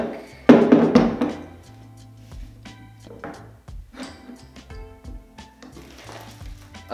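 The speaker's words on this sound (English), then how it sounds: "Let's see how you attach this quick release plate real quick." A quick release plate is fitted to the fluid head of a Manfrotto 290 Light tripod, producing a sharp plastic-and-metal clack followed by scattered smaller taps, clicks and fumbling knocks at close range.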